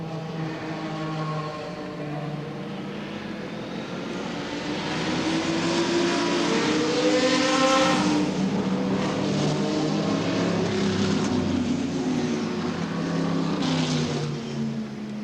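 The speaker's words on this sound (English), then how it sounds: "55 cars rolled off for a warm-up lap around the 8-mile circuit with its tight second-gear bends and 200 miles an hour straight" Racing cars at Le Mans in 1976 rolling off on a warm-up lap around the 8-mile circuit, a thick continuous engine roar that swells and fades as cars pass, with overlapping pitches from many machines.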